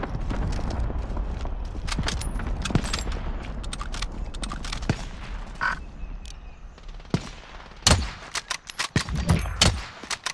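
Gunfire in a Call of Duty: Modern Warfare match, with sharp shots cracking irregularly across a steady battlefield din, a few isolated rounds followed by a louder cluster near the end.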